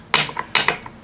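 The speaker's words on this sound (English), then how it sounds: "And yes, I still use this ratchet some." A Craftsman overdrive ratchet wrench clicks in two short bursts, crisp close mechanical pawl clicks in quick succession with a brief gap between them.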